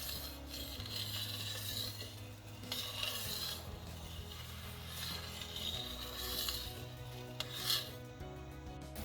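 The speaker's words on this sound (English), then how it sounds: "I'm just gonna mix this until the sugar dissolves and it comes to a boil" Steady scraping and stirring of sugar syrup in a pot over a medium-heat stove, a continuous rasping rub with faint utensil clinks, close and alone without voices.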